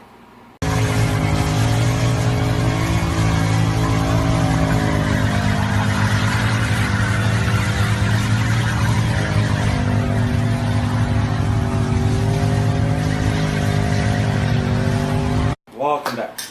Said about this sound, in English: So that was the biggest burnout I could find possibly on the internet right now.